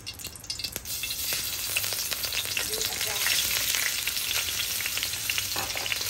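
Fatty pork belly stir-fries in a hot pan, a dense, continuous crackling sizzle with scattered spatter pops and a few stirring scrapes, loud and close throughout, no talking.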